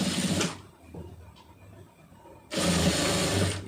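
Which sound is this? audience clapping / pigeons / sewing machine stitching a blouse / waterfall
sewing machine stitching a blouse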